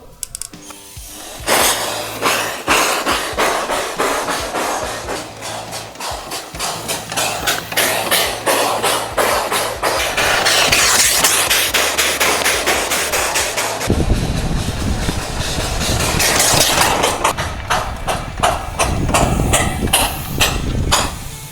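A homemade steam motorcycle engine runs with a fast, rhythmic mechanical clatter of ticking and chuffing. The sound is close and continuous for about twenty seconds, swelling and shifting in tone partway through.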